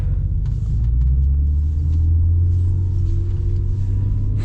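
A rear-wheel-drive car drives through snow on a 19-degree day, a steady deep engine and road rumble heard from inside the cabin with faint scattered ticks above it.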